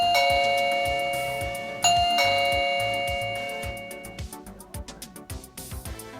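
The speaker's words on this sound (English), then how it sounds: "And now when someone rings the doorbell," MECO smart home video doorbell chime ringing through a melodic ding-dong tune, a repeated bright electronic ringtone with a steady beat, loud and close, fading out over several seconds.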